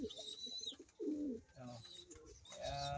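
Pigeons coo in soft, throaty rolling calls at close range, several overlapping bursts amid faint chirps and background rustling.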